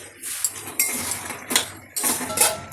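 Fried potatoes being stirred in a pan, a few bursts of metal spoon scraping and clinking against the pan with short pauses between, close and fairly loud, no voices.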